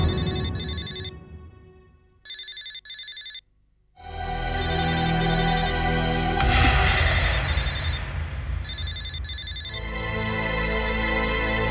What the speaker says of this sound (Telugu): జానకి, ఏంటి ఇప్పుడు ఫోన్ చేశా?